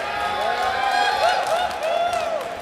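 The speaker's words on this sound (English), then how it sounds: "The crowd's behind you, man. They've been making noise this entire time." A crowd at a Yu-Gi-Oh trading card game tournament in Columbus, Ohio cheers and applauds in a dense, steady wash of noise, while several voices shout above it.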